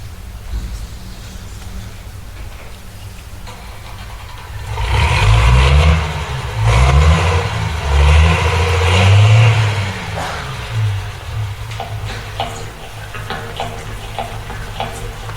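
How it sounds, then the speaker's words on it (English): A farm tractor engine at a county showcase starts up and revs in several loud, throaty surges through the middle stretch, then settles back to a low rumble among faint background noise. "It's time to start up that tractor again."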